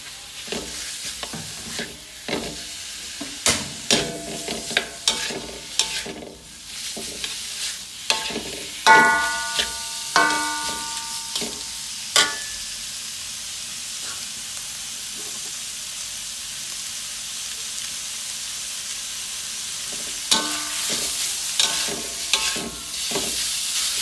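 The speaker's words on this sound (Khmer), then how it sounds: "ឆាសាច់ជ្រូកឲ្យឆ្អិនមុនសិន" Pork fries in a pan with spice paste, making a steady sizzle punctuated by repeated scraping and clattering strokes of a spatula in irregular bursts, louder early and near the end, with no talking.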